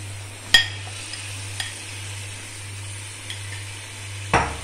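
Chicken seasoned with black pepper and salt cooking in a tomato paste gives a steady low sizzle, with a few sharp utensil clicks and stirs at the start and end, close by and with no voices.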